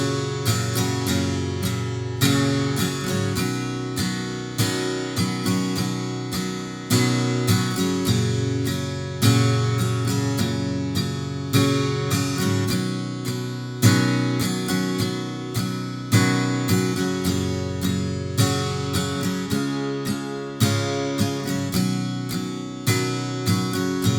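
An acoustic guitar strums the chorus chords of a song in a steady rhythmic pattern, close and clear, with a final chord struck once and left ringing, no voices.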